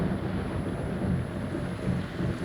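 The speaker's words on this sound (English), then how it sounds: "Better shut the door, otherwise we're going to get flooded out. Yeah, drop a downpour." Heavy rain downpour falling steadily outside a house with an open door, a dense, even roar of broadband noise throughout with low rumbling, loud and close, no talk.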